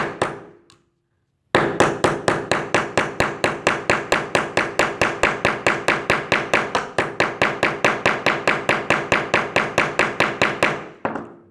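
Rapid, steady hammer-like taps on a Stargazer ferrule seated onto wood, about thirty evenly spaced sharp knocks in a continuous run after a brief pause, close and loud.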